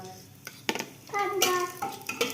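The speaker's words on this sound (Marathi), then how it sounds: "तमालपत्र थोडं चरचरलं की टाकूया जिरे. जिरे टाकल्यानंतर टाकूया आपला खडा मसाला, चक्री फूल, लवंग, वेलदोडा" Whole spices, bay leaf, cumin, clove, star anise and cardamom, hitting hot oil in a pan for a veg pulao, with sharp crackling pops and a spoon clinking and scraping, close and fairly loud.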